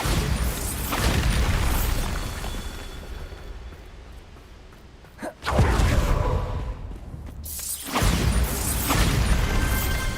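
A Bombarda blast spell from Hogwarts Legacy lands as a deep, loud boom with a whooshing rush, followed by a second heavy impact and rumbling debris over steady background ambience.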